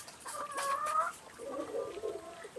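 Hens cluck and squawk nearby in a short, close burst, with no talking, on a farm in Pothupara, Idukki, with a pigeon among them.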